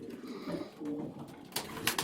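A pigeon coos softly at close range with a few low, throaty calls. Sharp rustles and knocks follow, likely handling noises from a loft during a racing-pigeon arrival.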